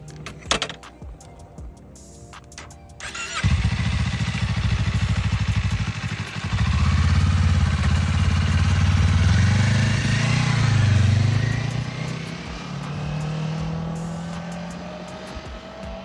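A Kawasaki Eliminator 500 motorcycle rides past up close, its engine note rising and falling through gear changes as it accelerates, then easing off, after a few seconds of clattering and faint sounds before it starts.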